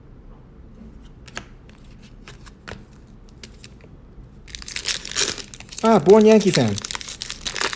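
Trading card packs from a box break of Game of Thrones, X-Files and Topps Brooklyn Collection crinkle and tear open, followed by cards shuffling and rustling close up, with someone talking over the handling.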